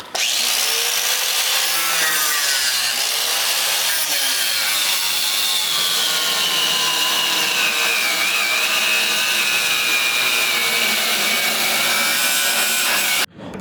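A power tool cuts out a part during a vehicle's conversion from hydraulic to air-bag suspension, producing a loud, continuous, steady grinding whine for about thirteen seconds before stopping abruptly.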